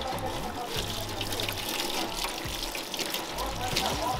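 Water poured and splashing to rinse paint out of someone's hair, a continuous trickling, splattering flow heard close up.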